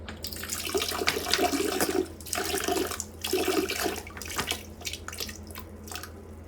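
A person urinating into a toilet, heard as a steady close trickle of liquid splashing into water that runs for about six seconds with slight dips in strength.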